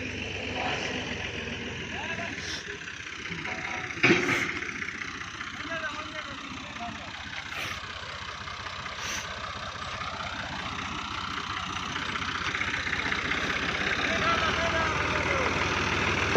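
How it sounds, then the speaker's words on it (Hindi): A farm tractor arriving at a field to plough in sown seed, its engine a low steady rumble that settles into idling, with people talking over it and a few sharp knocks along the way. "ये ट्रैक्टर आ रहा है।"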